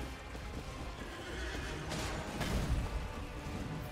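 A horse neighs in the Elden Ring video game, a loud whinny with hoof clip-clops during a boss fight against the Tree Sentinel, alone over game ambience.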